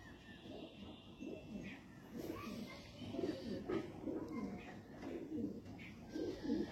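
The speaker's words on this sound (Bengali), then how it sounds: "এটা বলে গ্রিন আইস পায়রা" Green-eyed pigeons at a pigeon dealer's loft give a run of low rolling coos, overlapping and fairly close, rising in bursts over a constant ambient hum.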